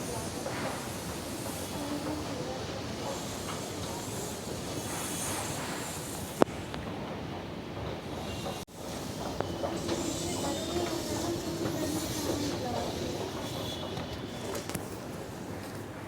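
A Kolkata metro train rumbles steadily along the track with a continuous roar and hiss, brief clanks and a sharp thump midway, as heard from inside a carriage.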